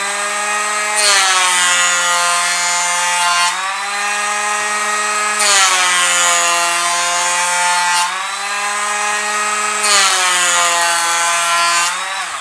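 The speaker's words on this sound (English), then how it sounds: "the planer copes absolutely fine with the oak on this width, with a cutting depth of 1 millimeter" A Bosch GHO 12V cordless planer shaves oak at a 1 mm cutting depth, loud and close, in repeated passes of about two seconds each, with a buzzing whine that rises in pitch between strokes.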